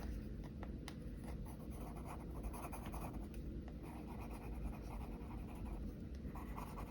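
A pencil crayon colours on sketchbook paper, making soft, steady, scratchy strokes that repeat close by and quietly. No one speaks.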